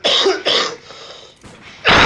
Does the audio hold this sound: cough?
yes